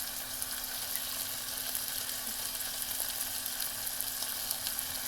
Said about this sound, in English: Now I'm going to put my garlic cloves.